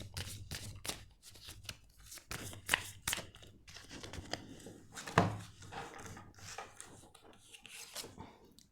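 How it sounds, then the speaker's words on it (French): A card deck being shuffled and a card drawn, a run of quick riffling and rubbing bursts at irregular intervals, fairly quiet and close, with no speech. "je vais tirer une carte"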